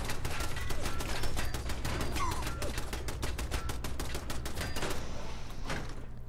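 Rapid, sustained automatic gunfire from a Fallout 4 firefight, a dense stream of close, loud shots rattling continuously for several seconds with almost no gaps.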